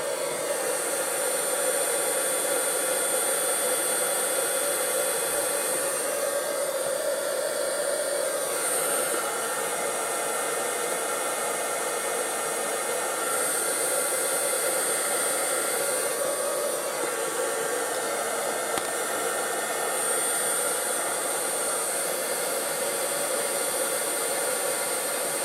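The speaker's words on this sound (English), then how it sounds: "Take the heat gun out of the way." A heat gun blows steadily to shrink heat shrink tubing over the soldered joins of a homemade PP9 battery pack, a constant loud whooshing hum with slight fluctuations and no speech.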